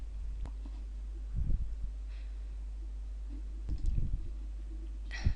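Several soft, sparse clicks of a computer mouse on an online application form, separated by quiet pauses, with faint handling noise between them.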